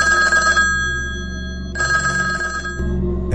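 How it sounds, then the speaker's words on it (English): Telephone bell ringing loud and close in repeated electronic bursts with short pauses between them, with no voices. "The phone rang at 11 p.m."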